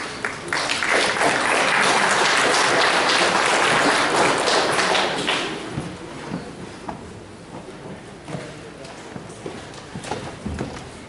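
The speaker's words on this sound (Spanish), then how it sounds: "Lo recibimos con fuertes aplausos" Loud, dense applause from a large audience in an academic hall welcoming a lecturer, sustained for several seconds before thinning into scattered claps and faint room noise.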